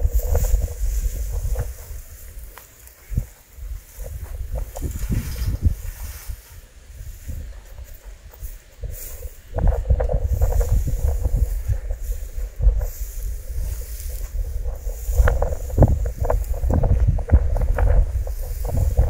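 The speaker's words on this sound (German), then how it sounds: "Heute ist auch ganz schön windig." Wind gusts over a hay field during haymaking, a rough blustery roar that swells and fades across the scene, loud at times with microphone buffeting and no talk.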